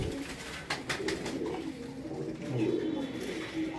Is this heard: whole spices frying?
no